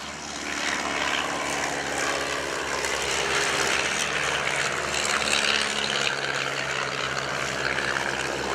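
Droning de Havilland DH 82 Tiger Moth biplane engines roar steadily, several blending together as they build and hold power on takeoff, loud and continuous, at a formation display in Shoreham.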